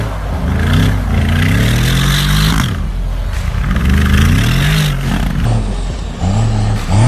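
Mercedes G-Class engine revving hard as the SUV slides on a frozen lake in Russia, with the engine note rising and falling in long sweeps, loud and close, and a steady rumble throughout with no talk.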